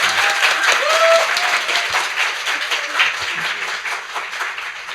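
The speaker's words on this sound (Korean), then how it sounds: "박수 부탁드리겠습니다." An audience at a public broadcast claps steadily before a professor's lecture, a continuous wash of applause with a voice briefly audible over it.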